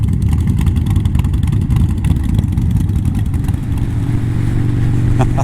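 Motorcycles ride past on a road, their engines a loud, steady, close roar that sustains throughout with slight rises as they go by.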